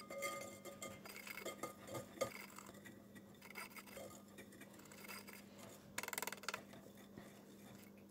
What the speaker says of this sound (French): Dans un récipient, je mets le beurre, le sucre. On réduit tout ça en pommade.